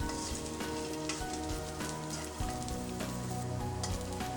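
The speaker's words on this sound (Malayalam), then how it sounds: "നല്ലതുപോലെ വഴറ്റണം." Curry ingredients for a fish curry sizzle steadily as they are sautéed in a pan, a continuous close frying crackle with faint stirring scrapes throughout.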